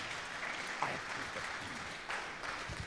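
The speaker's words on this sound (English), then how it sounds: "So please, your applause for Димитър Шалварджиев." Steady applause from an audience at a talk on penetration testing, a dense wash of clapping that holds throughout at moderate loudness.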